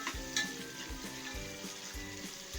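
Vegetables salted and frying in a pan give a soft continuous sizzle with faint stirring, quiet and close, with no speech.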